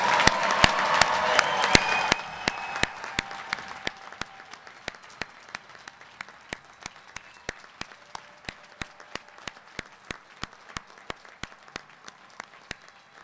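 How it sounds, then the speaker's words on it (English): An audience at a graduation ceremony applauds its graduates: a dense burst of clapping for the first two seconds, then thinning into scattered claps that fade, with sharp regular clicks throughout. "Please join me in giving all of our graduates a well-deserved round of applause."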